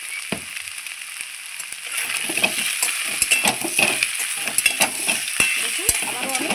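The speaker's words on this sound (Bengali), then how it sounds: "দেখুন আবারও আমি ভালো করে ভেজে নেব।" Fish head muri ghonto fries in a pan with salt and turmeric while being stirred, giving a steady close sizzle broken by sharp scrapes and clinks of the utensil against the pan.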